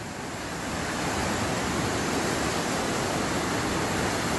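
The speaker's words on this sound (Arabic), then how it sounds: "شوفوا سرعة المياه" Fast-flowing floodwater rushing through a street in Erbil during heavy rains and flash floods, heard as a loud, dense, continuous roar that builds slightly at the start and then holds steady, with no voices.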